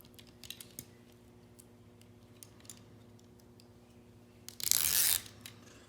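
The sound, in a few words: peeling plastic covering off tape on window trim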